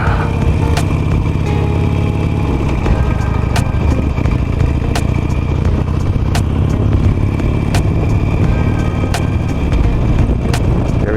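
A 17-year-old Harley-Davidson Nightster rides along a road near Vancouver as it warms up, a continuous loud rumbling engine with road and wind roar and periodic sharp ticks, no talking.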